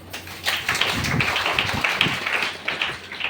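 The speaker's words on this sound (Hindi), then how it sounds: "इनके लिए जबरदस्त ताली" An audience claps for a woman at a Hindi-language talk event on women's issues, with a burst of dense, close clapping that swells and then tapers off unevenly over a few seconds.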